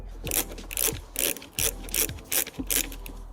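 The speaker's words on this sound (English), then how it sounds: "Using 10mm socket to move the bolt holding the airbox to the inner fender" A 10mm socket ratchet loosens the airbox bolt on a Ford Mustang GT 5.0L V8, clicking in seven quick, even bursts of close, crisp pawl ticks with brief gaps between strokes.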